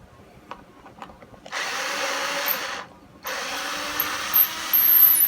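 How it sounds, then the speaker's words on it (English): Low-power drill-driver reversing screws out of a white Squier Affinity Telecaster guitar: two sustained whirring runs, the second longer, close and loud, preceded by faint handling clicks. "And we'll reverse all these screws out of here."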